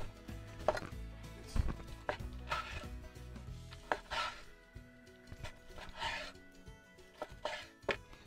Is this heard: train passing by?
no